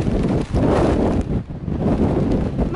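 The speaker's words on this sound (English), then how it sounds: "Still windy." Wind gusting and buffeting the microphone on an exposed hilltop along a mountain-range through-hike, a loud continuous roar that swells and dips in strong gusts with no talking.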